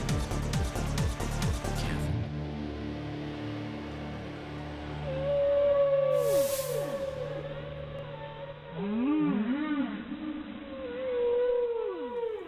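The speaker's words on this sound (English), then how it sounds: "That, my darlings, is the song of the whale, one of the most hypnotic noises in the universe" Whale song from a deep-sea creature: long, slowly gliding and sweeping tonal calls, some rising and falling in arcs, repeating over a steady ambient wash, fairly loud and continuous with no talking.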